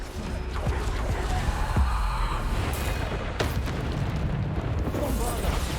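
Bombarda spell explosions during combat in the Hogwarts Legacy video game on PC: a dense, continuous rumble of booms and bursts with sharp cracks, mixed with in-game effects and a player talking.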